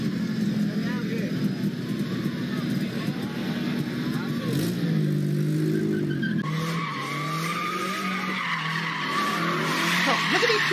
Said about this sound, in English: look at these people doing donuts